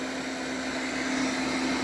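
A repaired Viomi S9 robot vacuum runs on test after a radar sensor fault fix, giving a steady close motor whine and airflow hum that holds constant without pauses.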